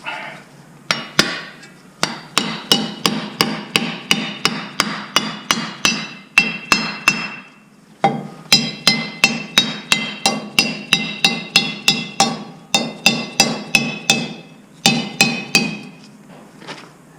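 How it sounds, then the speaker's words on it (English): Rapid, steady small-hammer taps on a metal cap ring out in long runs of sharp clinks, pausing briefly between bursts, close and fairly loud. "Get a little hammer."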